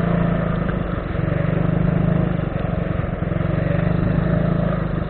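A small motorcycle labors across loose beach sand on a coastal track, its engine a steady, close drone with wavering throttle throughout.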